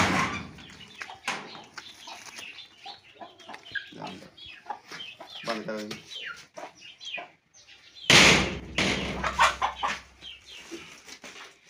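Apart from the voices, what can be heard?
Aseel chickens clucking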